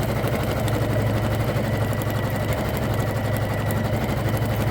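A Janome MC500e embroidery-only machine stitching at speed, giving a steady, dense mechanical whir and rapid needle clatter that runs continuously and loudly throughout without talk.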